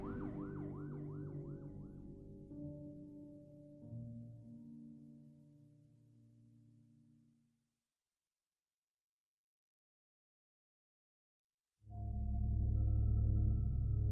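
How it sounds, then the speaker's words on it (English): A Frisco police siren wails and yelps loudly, then fades away into silence; after a pause, a deep low siren tone suddenly blares again up close. "the sergeant heard a siren blaring"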